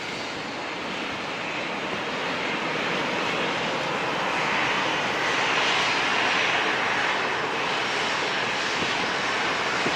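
An Alaska Airlines jet airliner in Star Wars livery at San Diego International Airport produces a continuous, loud broadband engine roar that swells slightly midway and holds steady throughout.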